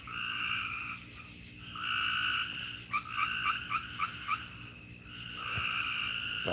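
A night chorus of several frog species croaks outdoors: repeated trilling calls that rise and fall, with a burst of quick pulsed croaks in the middle and faint insect chirping underneath.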